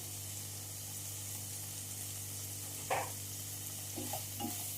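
Quiet, steady sizzle of paneer frying in a pan under a constant low hum, with a few soft clinks of a utensil.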